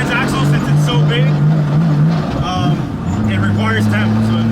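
An air-cooled Porsche 993 Turbo GT2 Evo engine revs up and settles, a steady droning hum with rising and falling pitch sweeps, close and loud, with people talking over it.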